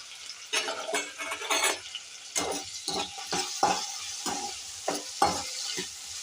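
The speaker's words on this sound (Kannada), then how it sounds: "ಈಗ ಈರುಳ್ಳಿನ ಟೊಮಟೊನ ಹಾಕ್ಕೊತಾ ಇದ್ದೀನಿ." Onions and tomatoes frying in a pan, a soft, steady sizzle broken by repeated stirring scrapes and occasional metallic clinks of a utensil.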